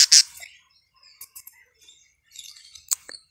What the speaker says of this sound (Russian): вот такая вот у меня появилась новая банда попугаев